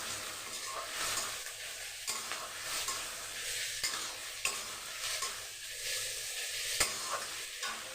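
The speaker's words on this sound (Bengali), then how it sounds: "রসুনটা দিয়ে খুব লাল লাল করে ভেজে নেব" Garlic frying in a pan, a dense continuous sizzle with occasional scraping stirs and a few light utensil clicks, close and steady.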